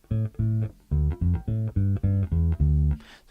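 An electric guitar plays two bars of a riff with a steady run of short, evenly spaced plucked notes, clean and close with no talking.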